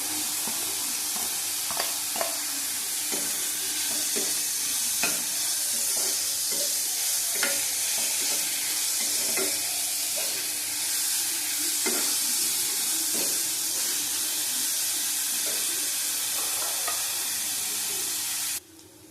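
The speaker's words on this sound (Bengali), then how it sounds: "ক্যাপসিকাম দিলাম, একসাথে ভেজে নেবো সব।" Capsicum, carrot and onion stir-fried together in a pan: a loud, continuous sizzle close up, broken by repeated spatula scrapes and taps at an irregular rhythm, with no speech.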